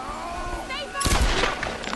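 A single sharp gunshot in the Tomb Raider video game cracks out loud and close about halfway through, ringing briefly after a short stretch of quieter game noise.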